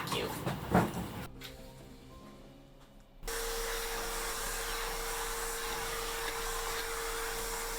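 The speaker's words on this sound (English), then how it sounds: "For the floors, first we vacuum." A vacuum cleaner starts up partway through and runs with a steady whining drone while cleaning a cabin floor aboard the ship Atyla, after a few quieter handling noises.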